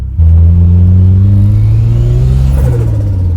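A Ford Sierra Sapphire RS Cosworth engine rumbles loudly and steadily from close by with a fluttering note, its low drone rising slightly as it pulls along, then shifting pitch near the end.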